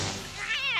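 A cartoon cat gives a short, rising meow over a busy animated soundtrack with background noise.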